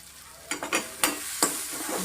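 Spices for a tempering, including coriander powder and turmeric, sizzle in oil, heard as a few short crackling bursts with stirring, close and alone.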